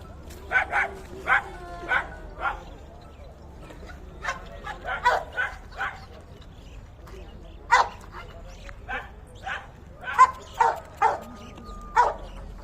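Puppies at a dog market in Fergana give repeated short, yappy barks and yips in uneven bursts, close by, with voices in the background.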